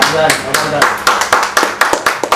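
Seminar audience clapping in sparse, uneven bursts, sharp close claps that thin out toward the end, loud and punchy.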